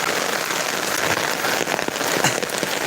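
Heavy rain driven by wind pours over a coconut grove with waterlogged ground, a dense, loud, continuous hiss of drops with scattered sharper patters, steady throughout with no voices.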